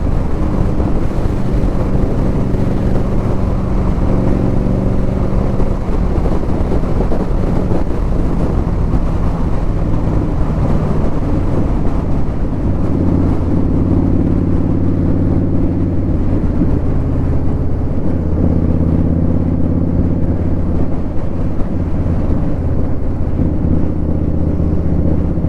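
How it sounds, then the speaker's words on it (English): An Indian Scout Bobber motorcycle riding through countryside, a loud, continuous engine drone under heavy wind rush, with the engine note rising and settling as it cruises along without talk. "Sounds so good, that bike."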